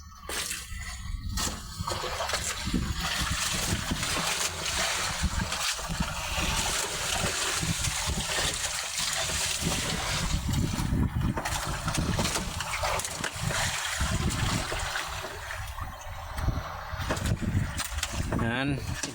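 Boats out on open water: steady engine and water noise with wind and occasional splashes, loud and continuous, with faint talk mixed in.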